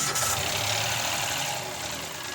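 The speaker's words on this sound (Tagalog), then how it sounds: "Start makina." The engine of a poorly maintained Mitsubishi Mirage runs at a steady idle, a loud, even rumble that continues throughout with no pauses.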